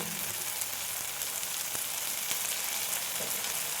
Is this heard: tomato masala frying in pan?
yes